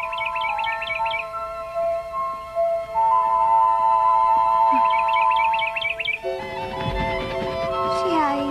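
Small bird chirping in a 1983 Hansel and Gretel production, quick bursts of high tweets repeating twice over sustained musical tones, followed by louder orchestral music.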